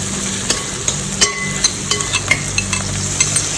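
Eastern brand ginger garlic paste fries in a pan for mutton curry, a steady sizzle broken by about a dozen sharp metallic clinks and scrapes as a spoon stirs it.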